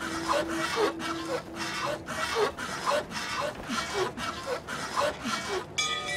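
In the video game This War of Mine, a saw cuts through rubble with about a dozen steady, rhythmic back-and-forth rasping strokes, each stroke close and distinct, and no talking.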